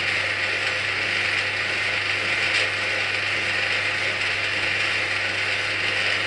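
Gears in the head of a Cormak ZX7045 milling machine running after reassembly, giving a steady, dense mechanical whir and ratcheting hum at constant level throughout, close and alone.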